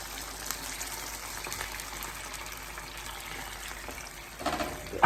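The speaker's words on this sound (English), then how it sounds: "I'm going to be adding 1 pint of water" Water poured from a measuring cup into a cooking pot, a steady gushing splash that runs under the whole stretch and swells slightly near the end, fairly quiet and without talk.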